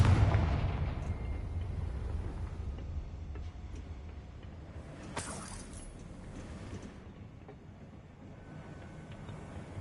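A Confringo fire spell in Hogwarts Legacy sets off a loud, booming blast with a sharp burst near the middle, rumbling over a continuous dense roar of game sound and background noise.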